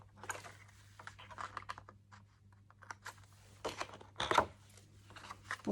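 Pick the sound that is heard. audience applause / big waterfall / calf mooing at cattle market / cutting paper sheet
cutting paper sheet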